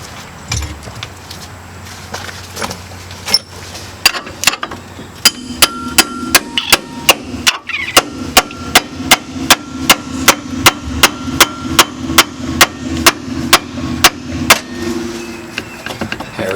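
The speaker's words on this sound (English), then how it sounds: "We're going to bang on it with a hammer." Repeated sharp metal hammer strikes bang against an upper ball joint on a car's suspension, a few scattered blows at first, then a steady rapid series of loud, close impacts ringing out in a regular rhythm.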